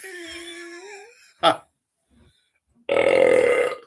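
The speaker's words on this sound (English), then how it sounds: "Big burps." A big, loud burp bursts out alone in a single long guttural rumble after a short vocal sound and a quick click, with a brief voiced sound before it.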